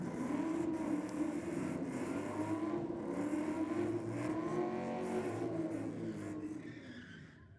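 A drag racing car, an HSV or BMW at a street-car meet, accelerates down the strip with a loud engine note rising and shifting through gears, then fading with distance at the end.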